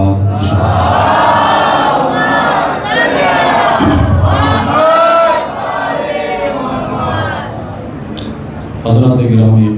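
A large congregation at a Muharram majlis loudly recites salawat in unison, a close, powerful wave of chanting voices that swells and dips in several surges.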